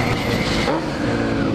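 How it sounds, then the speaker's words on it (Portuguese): A car engine roars steadily and loudly up close as the driver lets out the clutch, the sound dense and continuous with a slight shift partway through. "Vou soltar a embreagem, vou dar com a embreagem."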